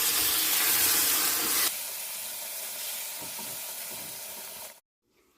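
Ground spice paste dropped into a hot pan, a loud burst of hissing sizzle that settles into a quieter steady frying sound while it is stirred, then drops away abruptly.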